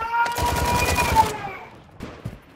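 Rapid sniper and automatic gunfire crackle in a Call of Duty MW2 DMZ match, a dense burst of shots lasting over a second before fading to scattered distant pops.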